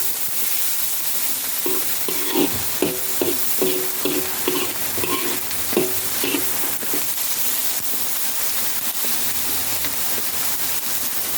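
Pickled mustard greens stir-fried with pork sizzle steadily in a hot pan, while a utensil scrapes and stirs in a quick rhythmic series of strokes before the frying settles into an even hiss.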